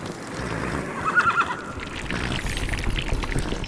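A horse neighs in the fantasy video game The Frostrune, a short whinny rising over a rumbling, watery game backdrop, followed by soft hoof-like thuds at moderate volume.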